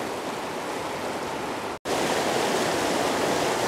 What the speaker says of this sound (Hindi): पानी बहता हुआ आवाज़